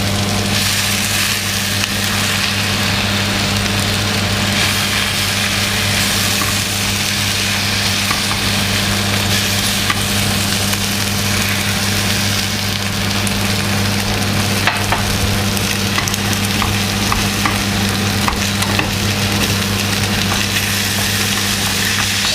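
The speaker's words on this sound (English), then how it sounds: "3 beaten eggs here, going in there instead of poached." Three beaten eggs hit a pan of farmhouse hash and fry, producing a loud steady sizzle with scraping stirs and a low constant hum underneath, no one speaking.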